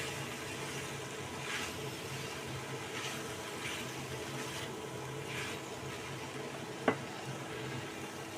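Onion flowers and vegetables for a curry fry quietly in a pan, a faint, even sizzle with soft periodic stirring and one brief sharp clink near the end.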